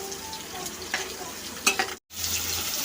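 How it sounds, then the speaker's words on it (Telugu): Lengthwise-sliced large onions fry in a pan as part of a phool makhana and gongura curry, giving a soft steady sizzle with a few scraping stirs and brief clinks, close and fairly quiet, cut by a short dropout. "ఆనియన్స్ ఇలా ఫ్రై అవుతుండగానే"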